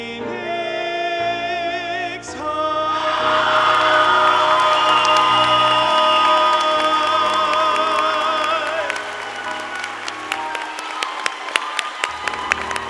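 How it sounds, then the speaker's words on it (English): Loud applause and cheering from a crowd at a school commencement, with whoops, following a student choir's sung final note and continuing as scattered claps. "Let's give our students in the choir a round of applause."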